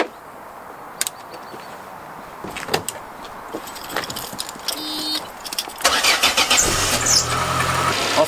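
A few clicks and a jingle of keys, then a car engine cranks and starts up, settling into a steady idle.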